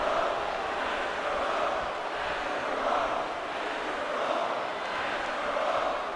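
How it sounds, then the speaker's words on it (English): Wrestling arena crowd at a G1 show chanting and screaming Kakarot in steady waves, a dense, loud, continuous roar with rhythmic swells throughout. "the crowd's just screaming Kakarot"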